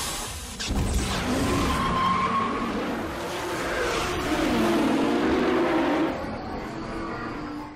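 Japanese cars race in a famous street sprint scene from the first Fast and Furious film, with loud roaring engines, screeching tire squeals and skidding building and swelling continuously over several seconds.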